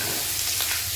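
Potatoes with five-spice seeds frying in hot oil for a vegetarian dish, a close, continuous sizzle with faint stirring scrapes and no voices.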